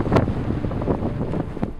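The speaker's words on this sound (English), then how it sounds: "the wind certainly knocks you around quite a bit" Strong wind buffets the microphone high on Makalu, a loud, continuous roaring rumble with gusty swells and no voices.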